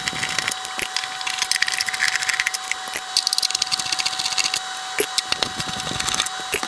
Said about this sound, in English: Let's get these screws out now.